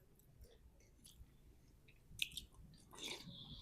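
Chewing Chin traditional sabuti up close at the microphone, with faint, scattered crunches and moist bites over a quiet room, plus a sharper crunch or two near the end.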